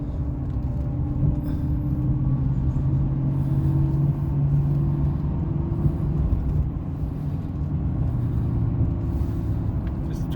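A Chevrolet Silverado CNG pickup truck drives around the block, its low engine drone and rumbling tire noise steady and close throughout, with no talking over it.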